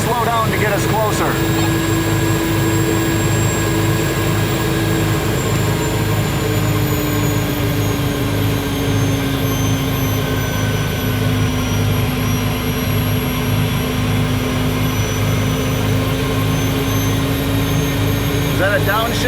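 A 1959 GM Firebird III turbine car drives along with a loud, continuous jet-like whine and roar heard from inside, its pitch sliding gradually downward as it downshifts.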